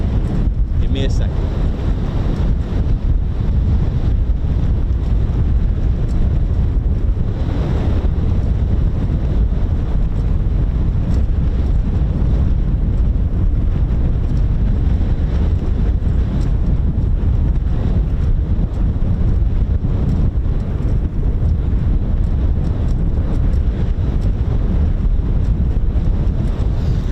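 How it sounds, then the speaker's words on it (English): Strong outdoor wind buffets the microphone at an RAF air weapons range, a constant loud low rumble throughout with no letup. "Well, the wind's just picked up."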